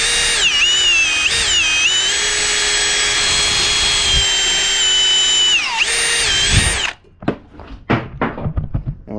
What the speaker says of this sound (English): Now we'll just hit it with the little wire wheel.